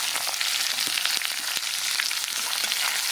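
Onion, green chili, ginger and garlic sizzle in a pan of hot oil for potato poriyal, a steady close crackling fry with small pops and no talking.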